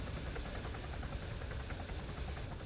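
A helicopter in the ARMA 3 military game hovers near water, giving a dense, steady rotor and engine roar with faint rhythmic beating that stays constant throughout.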